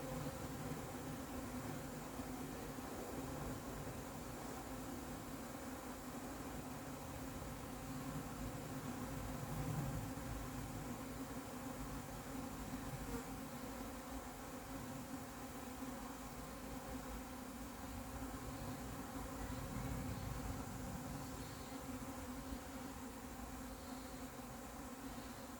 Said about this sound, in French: Je serai en sécurité quand ces abeilles arrêteront de voler.